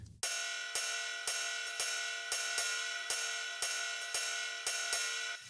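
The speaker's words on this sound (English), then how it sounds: "it sounds more metallic and more like an actual ride" Ride cymbal sample slowed to quarter speed and pitched down, producing a dark, metallic wash struck about ten times in a steady rhythm, each hit ringing into the next with long sustain, close and alone.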